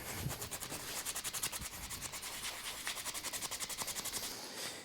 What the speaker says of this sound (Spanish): Y ahora hay que lijarlo ahí, hay que lijarlo para que quede